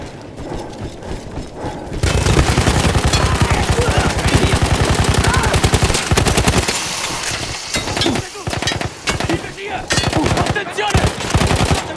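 A mounted heavy machine gun fires in Battlefield 1, opening with a quieter lead-in, then long, loud, rapid bursts of close automatic fire broken by short pauses, with voices faintly beneath.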